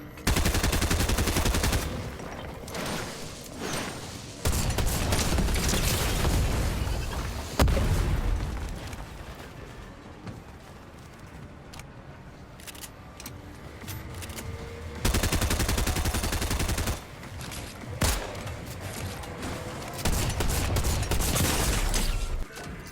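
Combat SMG gunfire in Fortnite Chapter 4 Season 3, loud rapid bursts of automatic fire repeating in long sustained strings with brief pauses between them, close and dominant with no talking.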